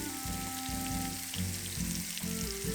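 Tofu slices frying in oil in a pan for braised tofu, a steady close crackling sizzle with dense popping spatter throughout, heard alone over a faint background hum.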